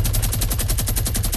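Rapid automatic gunfire from a minigun in Fortnite Battle Royale, a steady stream of closely spaced shots that stays loud and unbroken throughout, with no voices over it.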